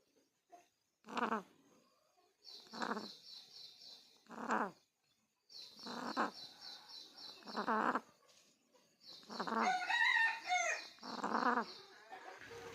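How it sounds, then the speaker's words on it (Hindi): A sick hen with white diarrhoea and respiratory disease gives a series of odd, strained, croaking calls in separate bursts with short silences between them, close by, while some thin higher chirps sound in the background. "एक बार ये मुर्गी की आवाज़ सुनिए दोस्त"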